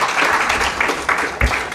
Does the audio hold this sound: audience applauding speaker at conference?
yes